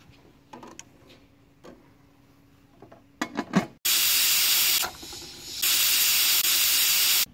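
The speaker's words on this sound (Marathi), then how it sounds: "हे भरपूर पाणी घालून आता आपण हे कुकरला 3 शिट्ट्यांमध्ये शिजवून घ्यायचं" A pressure cooker cooking horsegram ticks and rattles softly, then bursts into a loud, sustained steam hiss that dips briefly and returns strongly for its whistle, up close and without talk.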